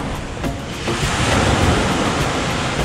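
Steady roar of sea surf washing onto Cagwait White Beach in Surigao del Sur, Philippines, loud and continuous with a gusty wind rush.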